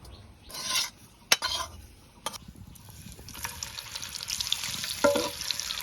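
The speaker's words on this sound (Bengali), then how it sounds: "ডিম দিয়ে তেলে ভাজার লাগিয়া এখন হলুদ আর লবণ দিয়ে মাহাই লমু" Boiled eggs are stirred in a bowl with turmeric and salt, making rough scraping and rubbing noises broken by a few sharp clinks of utensil against dish.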